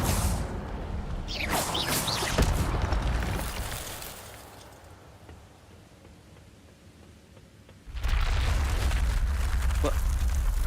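An Incendio fire spell cast in the Hogwarts Legacy video game: a loud, roaring burst that swells and slowly fades, then after a quiet stretch a second forceful blast erupts and keeps roaring steadily.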